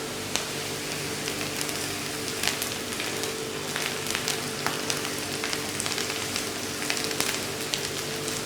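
Vegetables sautéing in a pan while cooking until translucent, a soft continuous sizzle with scattered small crackles and pops, steady and close, with no talking.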